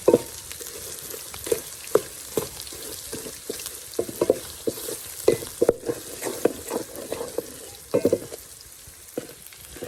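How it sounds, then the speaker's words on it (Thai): Shrimp paste stir-fried in a pan gives a low sizzle under brisk, repeated spatula scrapes and knocks in an uneven rhythm, close by, with no voices. "ใส่กะปิลงไปผัด"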